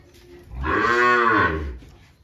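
A Gir breed cow gives one long, loud moo close by on a farm, rising and falling over about a second and a half with rich harmonics.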